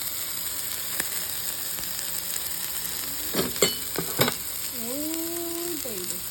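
Chicken and turkey burgers, Haitian style, frying in a pan with a steady close sizzle throughout, a few sharper crackles and spatters near the middle, and a brief whistling tone toward the end.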